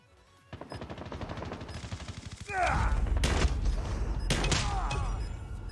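Automatic gunfire from Call of Duty Mobile multiplayer ranked play, rapid bursts of shots starting early and growing louder and denser in the second half with booming impacts, close and continuous game-combat noise.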